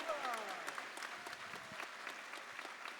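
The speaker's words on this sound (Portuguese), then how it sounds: "agora pode aplaudir" Applause from a church congregation at a Catholic teaching gathering, a dense steady patter of many hands clapping, moderately loud at first and holding through, with faint voices mixed in.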